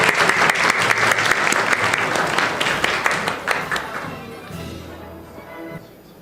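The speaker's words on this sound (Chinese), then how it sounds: "我们再次给所有的学生们，给他们掌声鼓励" A church congregation claps warmly for the students at a Sunday service, with loud, dense applause that tapers off gradually over several seconds to a quieter room murmur.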